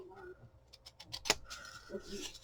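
Material being cut by hand up to a marked X, heard as a short run of crisp, close snipping clicks with a sharper single snap in the middle, followed by quieter handling rustle.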